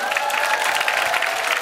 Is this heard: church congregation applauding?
yes